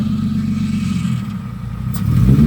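A Nissan 350Z with a freshly bled clutch rolls under its own power, its engine a loud, steady low rumble that swells a little toward the end, with no talking.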